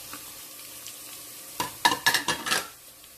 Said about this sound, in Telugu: ఇవి ఫ్రై అవుతున్నాయి